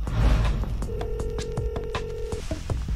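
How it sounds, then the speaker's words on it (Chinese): A mobile phone rings in the background of a post-apocalyptic drama scene just after power and signal return: a steady electronic ringtone holds for about a second and a half over rumbling background noise and sharp rhythmic clicks. "谁的手机响啊？"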